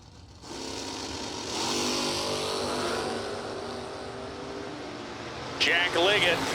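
A drag racing truck roars off the line at a big-money drag race event, its engine note climbing and holding loud for several seconds as it pulls away, with a voice breaking in over it at the end.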